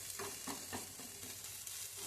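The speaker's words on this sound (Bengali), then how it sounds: "এটা সুন্দর করে ভাজতে হবে।" Bottle gourd leaves fry in a pan with a steady, close sizzle, punctuated by soft rhythmic stirring strokes about every quarter second.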